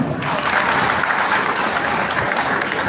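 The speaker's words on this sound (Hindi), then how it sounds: "जोरदार ताली" Loud, dense applause from a large audience at a Hindi devotional talk on the Bhagavad Gita, a continuous roar of clapping that fills the whole stretch without any voice on top.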